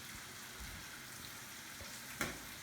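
Squash pieces fry in a pan with a soft, steady sizzle and a few faint stirring scrapes, ending in a brief sharp clink near the end; no voices.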